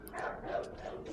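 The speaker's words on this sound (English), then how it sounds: "That's Dazzy barking." A dog barks a couple of times, fairly faint and somewhat distant.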